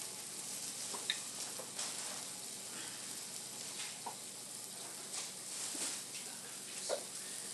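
Turkey bacon sizzles softly in a pan, a faint steady crackle with scattered small pops and occasional clicks of a utensil nearby.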